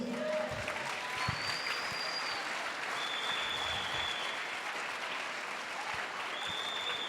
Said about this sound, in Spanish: Alguien déle una ofrenda de palmas a Jesús.